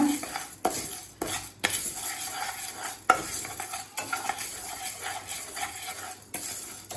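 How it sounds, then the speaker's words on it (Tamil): Moong dal is dry-roasted in a pan while a spoon stirs it steadily, producing close, continuous scraping and rattling of the grains against the metal with brief clinks and no talk. "பாசிப்பருப்பு நல்ல வாசனை வர வரைக்கும் வறுத்துக்கலாங்க"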